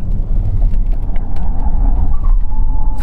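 A Lotus Eletre electric SUV accelerates out of a bend, heard as a steady road and motor hum with a faint rising whine, recorded from inside the car.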